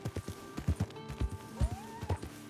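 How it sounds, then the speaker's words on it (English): Horses in the video game Red Dead Redemption 2 clip-clop along with steady, evenly spaced hoofbeats, and one rising whinny-like tone is heard partway through over a faint game background. "Horses? Just random horses?"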